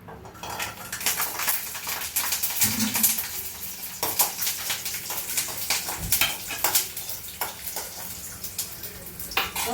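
Clattering utensils and pan clinks over a soft, steady sizzle of garlic frying in tempering oil for chutney, close by with no talking.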